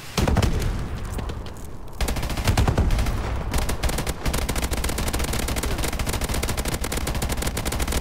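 Rapid automatic gunfire in Call of Duty, dense bursts of sharp shots that fire briefly, pause, then resume in a long continuous stream at loud level.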